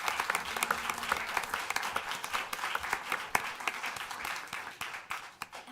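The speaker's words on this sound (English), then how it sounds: "We can have one more round of applause for Everett." Applause from the audience at a Springville city council meeting, a steady wash of many hands clapping that keeps going for several seconds with no voices over it.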